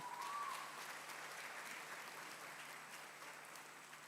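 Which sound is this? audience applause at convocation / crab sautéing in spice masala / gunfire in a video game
audience applause at convocation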